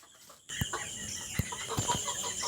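Native chickens on a farm give several soft, short clucks at irregular intervals, close by, over a steady background hiss.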